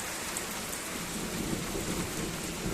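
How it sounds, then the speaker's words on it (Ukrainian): Steady heavy rain pours and splashes continuously, with a low rumble of thunder underneath throughout. "Сьогодні вже гримить."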